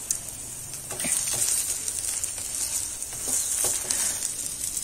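An onion paratha sizzles in desi ghee on a hot pan, a continuous crackling fry with a few louder spatters and scraping stirs, no voices.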